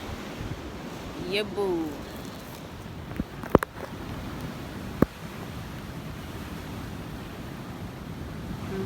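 Atlantic Ocean waves wash against a jetty at Swakopmund, Namibia, in a constant broad rushing roar mixed with wind buffeting, with a brief voice and a couple of sharp knocks over it.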